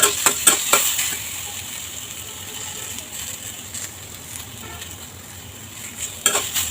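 Taro stolons fry in a pan over high heat with a steady, moderate sizzle. A few clinks of a utensil against the pan come at the start and again near the end.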